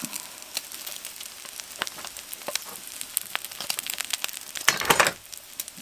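Pieces of steak sizzle and crackle in a pan at a riverside camp, with a steady spattering hiss and scattered pops that swell into a louder crackling burst near the end.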